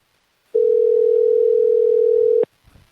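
A steady telephone dial tone on a phone line, loud and unbroken for about two seconds before cutting off abruptly, followed by faint rustling.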